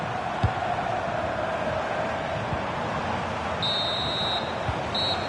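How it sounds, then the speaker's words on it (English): A referee's half-time whistle in the FC26 football video game sounds as a thin, steady high tone in two short bursts near the end, over a low hum of crowd noise. "So the whistle then. We're at the halfway stage in this match."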